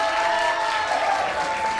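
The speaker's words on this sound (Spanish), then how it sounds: "¡Ah, fuerte este aplauso!" Loud, dense applause and cheering from a crowd at a fourth-year secondary class campfire celebration, steady and continuous through the short stretch with a faint voice underneath.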